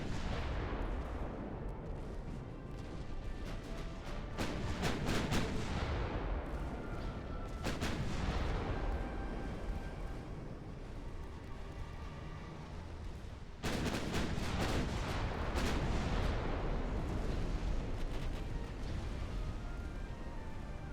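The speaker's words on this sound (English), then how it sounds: "Incoming shells." Battleship shells and artillery fire in the naval game Ultimate Admiral: Dreadnoughts, a continuous heavy rumble of booming salvos with several louder blasts, deep and sustained throughout.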